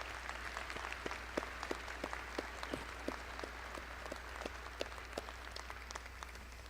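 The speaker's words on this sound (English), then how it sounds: "how about a big round of applause for the phenomenal faculty members who helped get you" A commencement audience at a UNT doctoral and master's graduation ceremony applauds the faculty; the clapping is fairly faint and thin, with distinct individual claps standing out over a steady crowd hush.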